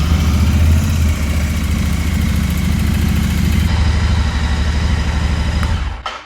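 A Royal Enfield Interceptor 650 motorcycle engine runs steadily at idle, a loud, close, continuous low throb with a brief change in tone partway through before cutting off near the end.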